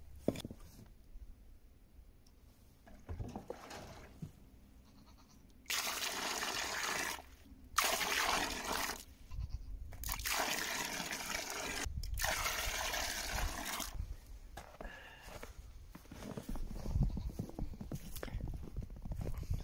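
Water from a goat waterer runs into a bucket on a farm in winter, a loud rushing pour in several bursts with pauses between, over quieter trickling and handling noises.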